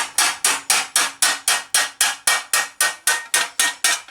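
A steel armour thigh plate hammered over an anvil horn, with about seventeen sharp, ringing metallic blows in a steady, even rhythm, each decaying quickly, close and loud with no talking.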